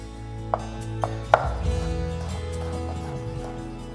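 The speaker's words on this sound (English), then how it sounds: "One large piece of garlic, roughly chopped." A large garlic clove roughly chopped with a knife on a board, a few sharp separate chops, one louder than the rest, over a low background hum.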